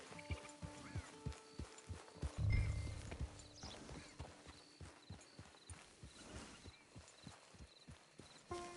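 Horse hooves clip-clop at a steady walking rhythm in Red Dead Redemption 2 Online, moderately close, with a brief low rumble partway through.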